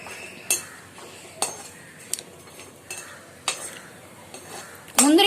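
Cashews frying in a pan for a rava kesari, stirred with a metal spoon that scrapes and clinks against the pan in sharp periodic strikes over a soft sizzle, ending in a louder clatter.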